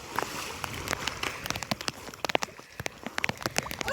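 Rain falls in scattered, uneven drops that patter and tap sharply on nearby surfaces, close and moderately loud, with no voices over it.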